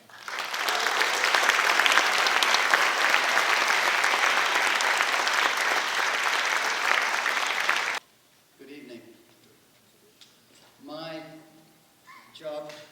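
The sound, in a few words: audience applause welcoming speaker Dr. Ian Hancock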